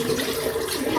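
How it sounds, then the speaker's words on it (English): Water runs and splashes steadily as a cup is rinsed out, a short continuous rush heard up close with no talking. "Rinse the cup out."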